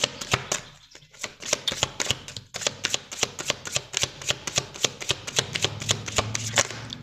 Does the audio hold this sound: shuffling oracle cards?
yes